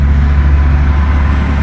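A big semi truck rumbles past nearby, a loud steady low engine drone filling the whole moment with no break.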